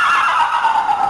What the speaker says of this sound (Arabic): الحصان